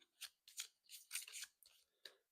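Playing cards riffled and shuffled between counts during a tabletop board game, a series of short crisp papery bursts in quick succession, close by with no talk.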